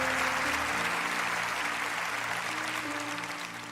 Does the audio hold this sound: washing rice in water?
no